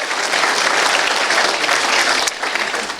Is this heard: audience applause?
yes